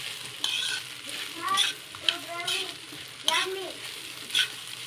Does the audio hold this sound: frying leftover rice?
yes